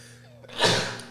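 A single sharp sneeze bursts out during a live talk show, loud and close, preceded by a short intake of breath over a low steady hum.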